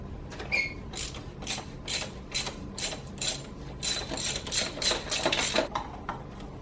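Ratchet working a long extension to loosen the oil filter on a 2003-or-later Saab 9-3 2.0T during an oil change, giving a steady run of close, crisp clicking strokes in a repeating rhythm.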